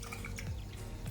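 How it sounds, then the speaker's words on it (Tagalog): Water dripping and trickling as rice is rinsed, three washes until the water runs clear, for Filipino-style rice; soft, close splashes and drips in a short, continuous burst with no talking. "Hinuhugasan ang rice ng tatlong hugas."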